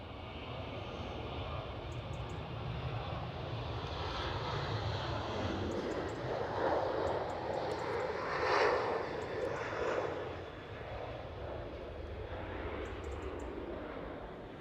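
A Transavia Boeing 737 roars past at Amsterdam Schiphol airport, its jet engines a broad, steady rumble that swells to a peak midway and then slowly fades, with no talk over it.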